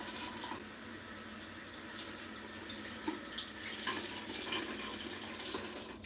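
Tap water runs steadily into a sink to soak a durag with cold water, a close, continuous hissing splash that holds even throughout with slight surges.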